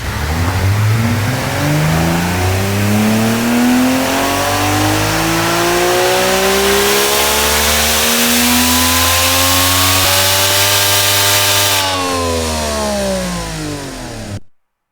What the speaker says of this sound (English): you don't need none of this unless you're weird and you want your engine to sound like this